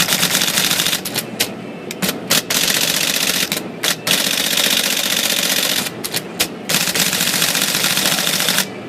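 An IBM Selectric typewriter under repair types loud, rapid mechanical strikes in dense runs with brief pauses, a harsh clattering close to the listener.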